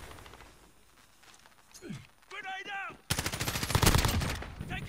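Bursts of gunfire in Call of Duty: Modern Warfare ring out as a rapid, loud rattle of shots in the second half, following quieter game sounds and a brief voice.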